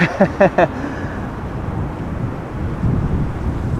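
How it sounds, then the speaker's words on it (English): Aircraft wake turbulence at Amsterdam Schiphol Airport: a steady low rushing roar like wind buffeting, with a few short thumps at the start, continuous and fairly loud. "It starts getting windy, wake turbulence."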